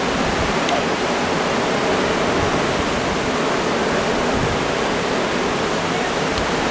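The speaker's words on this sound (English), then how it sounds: "Just be like silent and listen to the waves." Ocean waves in Hawaii wash in a steady, loud, broadband roar that fills the scene without letup, with no distinct voices over it.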